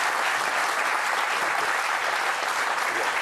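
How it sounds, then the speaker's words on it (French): Audience applause for Ségolène fills the room: a continuous, loud wash of many hands clapping with no breaks from start to finish. "on aussi peut applaudir Ségolène"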